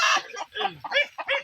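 Backyard chickens clucking in short, close, fairly loud bursts, with several quick calls one after another and no talk over them.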